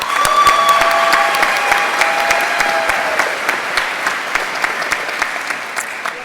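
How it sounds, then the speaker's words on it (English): Sustained audience applause at a College of Engineering commencement for the class of 2026, a dense wash of clapping that stays loud throughout and only slightly thins toward the end, with faint crowd murmur beneath. "can we give Saba another round of applause for her student address?"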